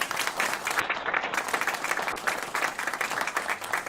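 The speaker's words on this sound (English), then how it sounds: "Let's give Chief Aziz a round of applause." A crowd claps steadily and fairly loudly throughout, a dense, even wash of applause with no voices standing out.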